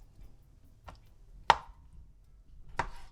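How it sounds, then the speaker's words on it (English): A knife cutting conch into small cubes on a board, three sparse sharp chops spaced apart, close and fairly quiet with near silence between strokes. "Just cutting them in small cubes."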